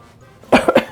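A reader voices a cricket's cough for a toddlers' picture book: a sharp nearby cough followed by two quicker hacking bursts, a voice imitating the insect's cough.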